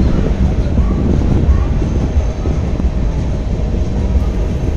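Puri–Shalimar Dhauli Express (12822) at Uddhar Road station, heard as a loud, steady rail rumble with low clatter that runs unbroken throughout, with no voices.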